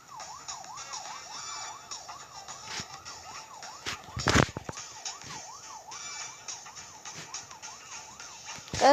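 A police car siren wails in a steady rising and falling cycle throughout, with street noise and a few sharp knocks and bangs underneath.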